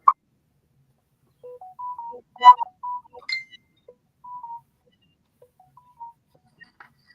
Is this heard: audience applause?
no